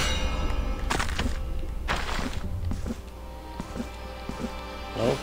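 Bell in the dark fantasy game Blasphemous II struck several times, each a sharp metallic clang or thunk with a ringing tail, spaced irregularly against a low droning music bed.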